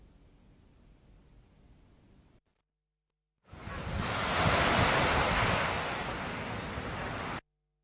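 Strong surf rolls in along the Bali coast during a season of high winds and big waves, a loud, steady broadband roar with wind buffeting the microphone, preceded by a quieter stretch of distant wash and a brief silence.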